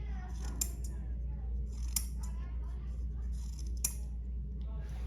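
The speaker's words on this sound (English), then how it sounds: "It is scissors. Cutting paper" Scissors snip through paper in a few sharp, crisp cuts spaced apart, close to the microphone over a steady low hum.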